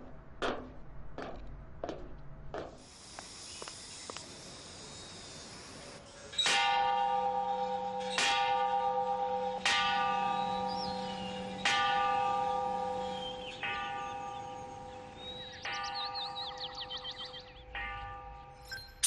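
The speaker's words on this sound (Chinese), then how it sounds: "我在厦大敲钟，人工的，现在还是人工的" A hand-struck noon bell at Xiamen University rings out in a series of clear, resonant clangs, a few quick strikes first, then slower spaced strokes each leaving a long ringing decay, heard alone.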